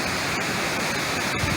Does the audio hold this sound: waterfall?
yes